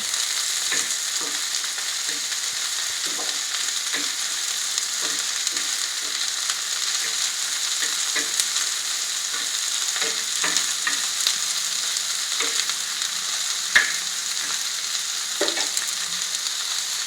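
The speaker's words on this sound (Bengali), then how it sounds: "উচ্ছেগুলো একটু ভেজে নিতে হবে কড়া করে।" Bitter gourd frying crisp in mustard oil for a bitter gourd and egg fry: an even, continuous hiss of hot oil with scattered soft pops and occasional stirring, steady and fairly close.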